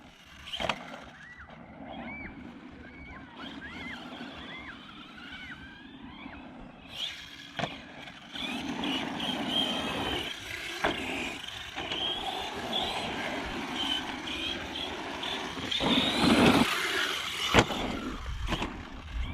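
An Arrma Big Rock 6S RC truck drives over a dirt berm, its electric motor whining in rising and falling pitch sweeps, growing louder and rougher toward the end as the truck lands and bumps along. No one speaks.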